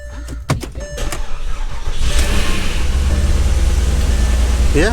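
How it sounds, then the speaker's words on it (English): A 2009 Porsche Cayenne S (957) under repair, running without coolant, cranks and fires, its engine then settling into a steady, loud idle that carries through to the end, with brief mechanical clicks and clunks before the start. "to attempt to start the engine"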